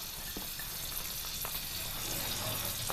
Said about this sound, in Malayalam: അതിലേക്ക് നമുക്ക് തേങ്ങ ഇട്ട് കൊടുക്കാം